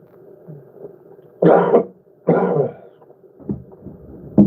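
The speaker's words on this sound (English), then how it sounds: "Why are you coughing" Several harsh coughs from a person, two loud close bursts followed by a few smaller, weaker coughs, with short quiet gaps between them.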